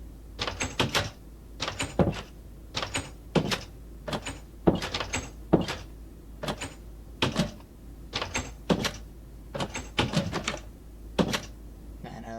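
Doors in Minecraft Xbox 360 Edition open and close over and over, sharp clicky wooden clacks in quick pairs and clusters spread evenly across the stretch, with no talking.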